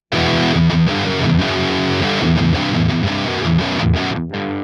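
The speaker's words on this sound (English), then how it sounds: "the most common mistake I see is people using way too much gain" An electric guitar played through an amp simulation with far too much gain, giving a loud, saturated, muddy distorted tone as chords and riffs run continuously, then cut off sharply at the end.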